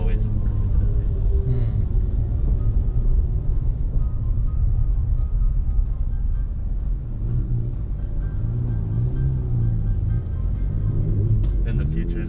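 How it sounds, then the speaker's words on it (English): Road traffic at rush hour makes a continuous low rumble with passing cars and engine noise throughout, and people talk over it. "I guess this is normal traffic for this time here."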